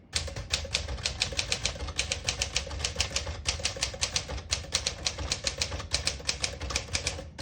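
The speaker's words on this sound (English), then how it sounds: "I'll type a sentence in red on the next line" Rapid clacking of a 1961 Smith-Corona Sterling manual portable typewriter's keys, a steady stream of sharp strikes with brief pauses, close up and crisp.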